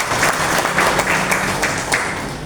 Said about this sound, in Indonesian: Berikan tepuk tangan yang meriah buat beliau.